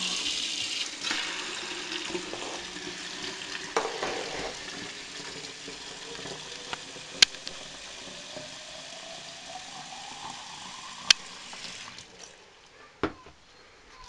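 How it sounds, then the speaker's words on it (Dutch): Ordinary tap water is poured from a watering can onto fast-growing potted plants, making a continuous splashing trickle with a few sharp clinks and knocks of the can throughout. "Die krijgt met de gewone gietwater."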